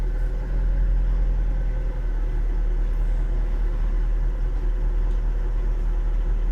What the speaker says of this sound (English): I'll start the car and turn the wheel around